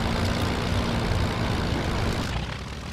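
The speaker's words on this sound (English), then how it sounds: "One nice thing about single engine, supercharged aircraft. Immediate throttle response." A Messerschmitt Bf-109 single-engine supercharged aircraft engine in Flight Simulator X roars at a steady, loud, broadband drone, near and unbroken, fading slightly at the very end.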